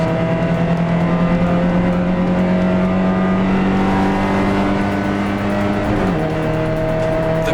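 A Porsche 944 race car accelerates hard out of a kink at Sandown Raceway during a 2024 Porsche 944 Challenge race, its loud, close engine holding a steady droning pitch before a brief shift near the end.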